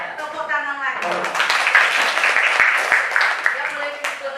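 A classroom of students claps hands together in a broad, steady burst of applause lasting several seconds, with a teacher's voice heard briefly at the start before the clapping takes over.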